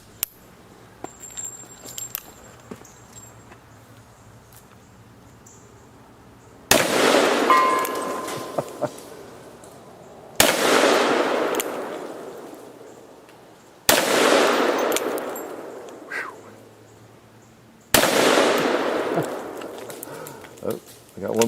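A Magnum 500 handgun fires four very loud single shots spaced a few seconds apart, each a sharp blast with a long ringing decay outdoors, with quiet talk in the gaps.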